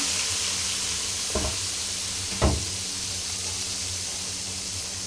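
Blended paste of onion, ginger, garlic, cumin, green chili and tomato sizzles as it is stir-fried in a pan for a Bangladeshi chicken curry, a steady hiss broken by two soft knocks of a spoon against the pan.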